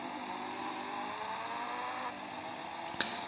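Car engine in a French video game, a steady mid-pitched drone held at constant revs close up, with a brief sharp knock near the end.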